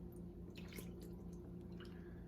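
Melted butter is poured into a container of water while making sourdough bread, giving faint, soft drips and small splashes over a quiet room hum.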